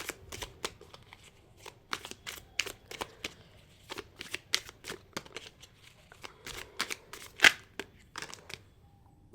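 A deck of prediction cards is shuffled up close in a steady run of quick, crisp riffling snaps, with soft rustling between them and no talking.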